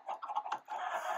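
Minecraft chickens give a quick run of short, nasal clucks, close and fairly clear, with one longer squawk at the end.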